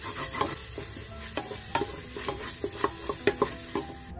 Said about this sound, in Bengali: আঁচটাকে বাড়িয়ে ভালো মতো মশলাগুলোকে কষিয়ে নিচ্ছি।